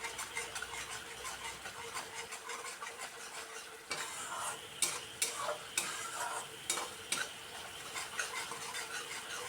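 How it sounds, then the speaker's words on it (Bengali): Spice paste being stir-fried dry in a kadai for a soybean dish, with a steady sizzle and repeated scraping and clinking of a spatula against the pan, continuous and fairly close throughout. "মশলাটা খুব সুন্দরভাবে কষানো হচ্ছে,"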